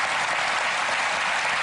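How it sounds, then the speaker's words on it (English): A television magic show audience gives a brief burst of loud, steady applause, a dense wash of clapping with no voices. "A round of applause for Mr. Ross."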